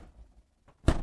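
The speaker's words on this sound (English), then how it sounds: "I'm gonna shut this door" A Samsung 4-door Flex refrigerator door swings shut with a single close, solid thunk after a near-silent moment.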